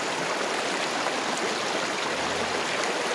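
Floodwater from the swollen Torsa river rushes over a Chhath puja ghat in a loud, steady, broadband roar of churning water that continues unbroken throughout.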